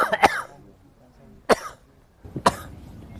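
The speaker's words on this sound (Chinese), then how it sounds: "你看他唱完就咳嗽了。" A man coughs after singing during a voice-guessing game show, three sharp separate coughs spaced about a second apart, close and loud with quiet between.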